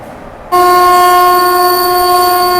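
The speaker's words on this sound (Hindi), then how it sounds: "फिर से सामने से कोई ट्रेन आ रही है मेरे हिसाब से वैप 7 के साथ में।" A train horn blares loud and steady from a passing train hauled by a WAP-7 electric locomotive near Kanpur Central, sounding alone after a quieter rumble.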